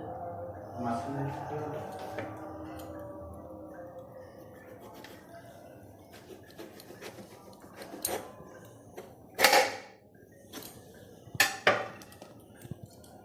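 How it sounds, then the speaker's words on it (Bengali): A knife chops an eggplant into pieces for crispy Bengali beguni, giving a few sharp taps on a board near the end. Someone talks quietly through most of it. "এবার আমি এই বেগুনটা পুরো পিস পিস করে কাটবো।"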